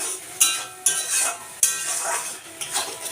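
Spice masala and meat stirred in a pan for a thin meat curry, with a steady frying sizzle and a few sharp spatula knocks against the metal, close up and with no voices.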